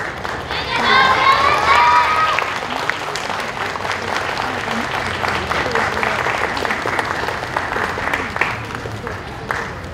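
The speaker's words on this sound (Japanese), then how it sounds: "今一度大きな拍手をお送りください。" Audience applause for a children's kagura troupe at an outdoor festival plaza, dense steady clapping lasting the whole stretch, with cheers and shouts rising early on over a busy crowd.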